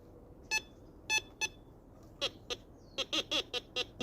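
A Teknetics Eurotek metal detector picking up an object gives a run of short, sharp electronic beeps, sparse at first and then quicker, close and clear against a quiet background.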